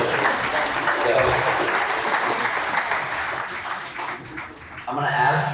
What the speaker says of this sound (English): Round of applause for somebody.